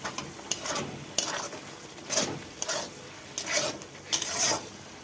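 Taro pieces go into a pan of well-fried spiced masala for a hilsa and taro curry, giving repeated bursts of scraping and sizzling as they are stirred, fairly close and with no talk.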